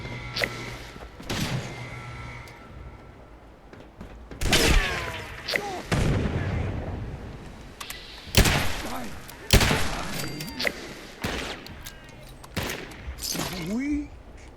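A grenade explosion in Fallout 76, with sharp booms, shattering crashes and thuds bursting in loud clusters, while people talk over the chaotic combat noise.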